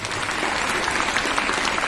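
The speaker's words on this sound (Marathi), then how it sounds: "त्या सर्व विद्यार्थ्यांसाठी एकदा जोरदार टाळ्या वाजवल्या पाहिजे" Audience at a school farewell ceremony for twelfth-grade students bursts into loud, close, continuous clapping, a thick steady rattle of many hands.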